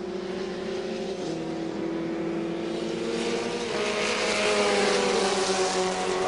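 Formula Petrobras open-wheel race cars from 1999 pass on track, a loud sustained engine drone that swells and shifts pitch as the cars go by, with no talk.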